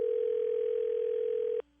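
A steady telephone dial tone hums continuously for over a second and a half, then cuts off abruptly as a call is placed, leaving a faint low residue.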